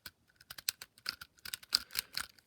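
A NECA King Kong action figure's swivel hinge being worked, giving a quick series of small, close plastic clicks and ratchets in an otherwise quiet room.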